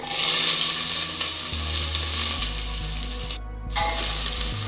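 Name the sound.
onions, green chillies and curry leaves sautéing in pan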